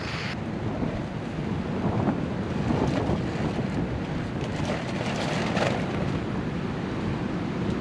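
Strong wind roars steadily around a cheap tent pitched for stealth camping in high winds, a dense continuous rush with gusty swells and buffeting that surges slightly louder midway, with no talking.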